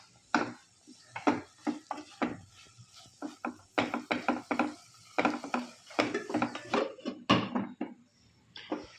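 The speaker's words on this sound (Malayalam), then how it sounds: "സോ നമുക്കിത് ഇടയ്ക്കിടയ്ക്ക് ഇങ്ങനെ ഒന്ന് ഇളക്കി കൊടുക്കണം." A spoon scraping and knocking against a pan while Maharashtrian methi sabzi (fenugreek leaves) is stirred, in irregular clattering strokes, close and fairly loud, with no talking.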